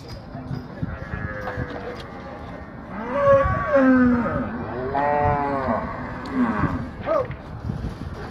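Cattle in a corral at a livestock fair low and moo repeatedly, several long calls overlapping, with a bleating sheep-like cry and people talking faintly in the background.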